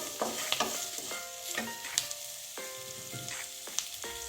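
Masala chili bhaji with turmeric sizzles in a pan while a spoon stirs it, scraping and clinking at an irregular pace. The frying is close, and no one speaks.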